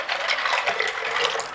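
Warm tap water is poured into a bowl, a short continuous splashing gush heard up close with no one talking.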